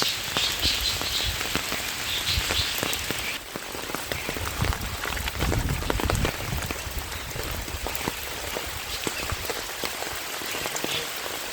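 Steady rain falls on a surface during fishing, with a continuous hiss and scattered drops pattering nearby, no talking.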